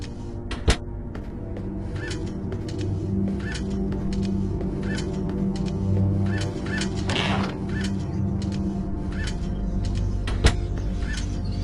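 Birds in the PC game Fahrenheit give repeated honking, goose-like calls at a fairly regular pace over a steady mechanical hum, with a couple of sharp ticks and clicks mixed in.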